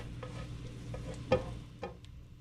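Pork chops sear in butter in a hot pan, giving a soft, low sizzle with a couple of brief clanks or scrapes from handling, close by and fairly quiet, with no voices.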